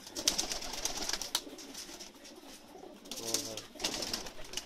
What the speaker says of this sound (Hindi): एक मोतियां वाला कबूतर दिखा रहे हैं, सियालकोटी